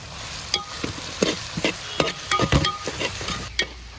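Onions with salt sauté in a pan, a soft sizzle broken by repeated scraping stirs at an uneven rhythm, close and moderately quiet, with no voices.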